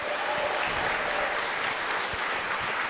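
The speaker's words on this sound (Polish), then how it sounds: "Alan Pakosz, wielkie brawa!" Audience applause at a 2024 stand-up comedy show in Nowy Dwór Mazowiecki: a steady, dense wash of clapping from a crowd, loud and continuous for the whole stretch.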